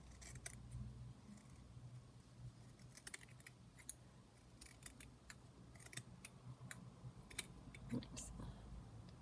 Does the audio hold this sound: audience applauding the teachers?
no